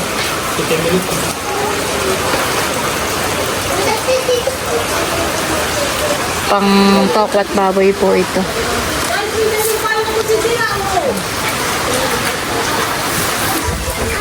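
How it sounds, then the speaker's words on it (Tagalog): Steady, heavy rain hisses loudly throughout, with a person talking over the downpour and brief clattering in the middle. "Palakas ng ulan."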